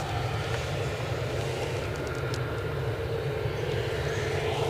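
An EasyJet airliner taxis at Edinburgh airport, its engines a steady, loud, continuous roar and whine holding level throughout with no voices.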